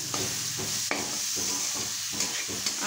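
Egg fried rice stirred in a hot pan with pickle, black pepper and salt, a continuous sizzle broken by repeated scraping strokes of the spoon at a steady rhythm.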